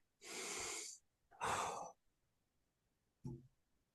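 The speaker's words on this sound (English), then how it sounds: "Let's take a big deep breath there." A person takes a big deep breath during a guided emotional-release session: a long audible inhale, then a full exhale, followed by a brief short breath, close and otherwise quiet.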